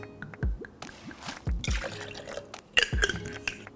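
Simple syrup poured for an Earl Grey gin martini, a few short liquid drips and splashes into a glass with light clinks, close and fairly quiet, no talking.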